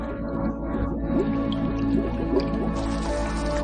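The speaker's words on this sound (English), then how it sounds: "A churning spectacle. Bubbles rise and break." Spring water bubbles up in a constant churn, with bubbles rising and breaking in a dense, steady gurgle that stays close and fairly loud with no talk over it.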